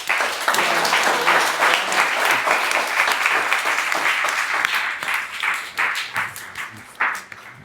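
Audience applause for musicians at an evening spiritual gathering in New York, a dense steady wash of many hands clapping close by, thinning into scattered claps toward the end.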